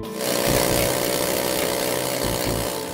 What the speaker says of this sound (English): A scaling hammer is used for extensive thick rust